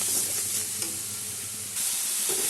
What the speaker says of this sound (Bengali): সব একসাথে কষাবো, তারপরে দেবো শস্য পোস্তটা।